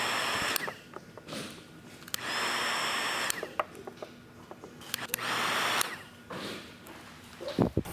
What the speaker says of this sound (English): to help me better lay down the film, I'm gonna grab my heat gun, I'm gonna go over it